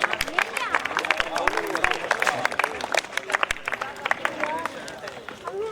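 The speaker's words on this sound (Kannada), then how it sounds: "ಅತ್ಯಂತ ಜೋರಾದ ಚಪ್ಪಾಳೆ ಇರಬೇಕು ಕ್ರೀಡಾ ಜ್ಯೋತಿಗೆ." Crowd applause for the sports torch at a stadium ceremony in Kalaburagi, sustained dense clapping from a large gathering with babble underneath and a voice over a loudspeaker.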